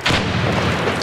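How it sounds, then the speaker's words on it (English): A frag grenade detonates in a military shooter game, a single loud, dense boom with a rumbling, crackling tail that fills the entire short moment. "Tossing there. Frag!"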